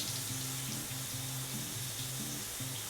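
Warm water runs from a tap while hair is being rinsed, a soft steady splashing hiss with faint repeating low tones, quiet and unbroken throughout with no voices.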